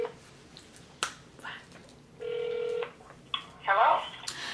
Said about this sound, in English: I should call you, Lee.